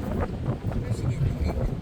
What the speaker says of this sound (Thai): ลมแรงมากเลยนะทุกคน